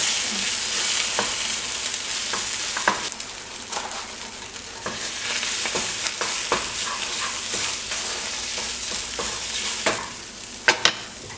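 Ingredients for a tater tot casserole get stirred together, a steady scraping and mixing with soft crackling underneath and a few sharp clinks of utensil on bowl near the end.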